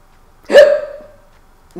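A single hiccup from a character in The Urbz: Sims in the City, a loud voiced gulp followed by a short fading tail, standing alone with near silence after it.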